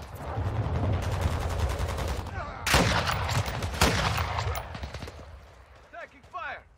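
Repeated bursts of automatic gunfire in Call of Duty Modern Warfare 2 Invasion mode, close and loud, with sharp cracks standing out over a dense, rumbling battle background and some voices.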